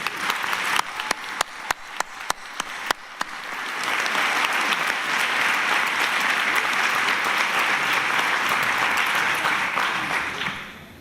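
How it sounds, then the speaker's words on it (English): Applause for new school staff at a district board meeting starts as a few separate claps, then swells into a steady, full round of clapping that lasts several seconds before tapering off. "Please help join me in giving them a round of applause."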